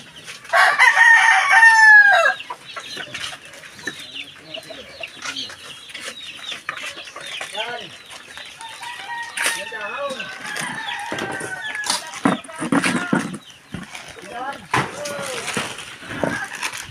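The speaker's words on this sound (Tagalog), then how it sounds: "Yan po manok." Rooster crowing loudly and close by in a rural yard, one long strained crow at the start, then scattered clucks and distant crows, with people talking in between.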